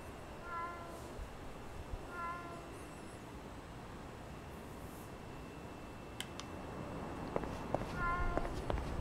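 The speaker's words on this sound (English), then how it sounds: "I don't know, I hear a cat." Cat meowing in the video game Yakuza 6, a few short harmonic meows spaced apart over a steady ambient game backdrop with occasional clicks and footsteps, moderately faint.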